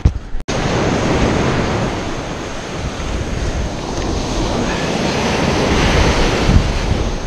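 Gulf surf breaking steadily on the shore at Navarre, Florida, a loud continuous rushing wash with wind buffeting the microphone and no talk.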